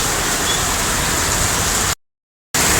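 Heavy pouring rain in Cotabato, a dense loud steady hiss that fills everything, broken by a brief half-second dropout to silence before resuming.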